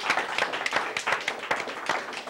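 A live audience at a math talk gives a round of applause for dancers. The clapping is uneven and fairly close, with separate hand claps audible in a loose rhythm.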